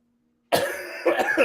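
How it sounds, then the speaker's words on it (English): A single close, harsh cough bursts out after a moment of silence, followed by a rougher second cough. "my cough is coming back"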